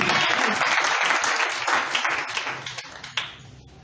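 A church congregation bursts into loud, dense applause that fills the space, then thins out into scattered claps over the final second.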